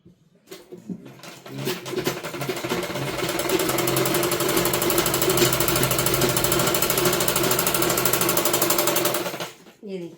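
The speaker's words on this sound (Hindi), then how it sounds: "इसकी सिलाई लगाएंगे" Electric sewing machine stitching a seam on a suit during alteration, a loud steady mechanical whirr with rapid needle chatter running continuously for several seconds before stopping, with brief talk at the start.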